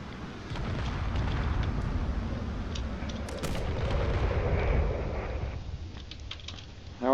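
Video game warship blown apart by a heavy torpedo barrage in a space battle, a dense, rumbling roar of explosions and crackling blasts that swells loudly for several seconds, then thins out.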